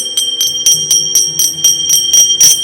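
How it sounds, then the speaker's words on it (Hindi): A bell struck repeatedly during a Shiva katha religious gathering, about nine bright metallic rings in a steady rhythm, each ring sustaining and overlapping the next, loud and close with a low hum beneath. "घंटी भी बजाई गई"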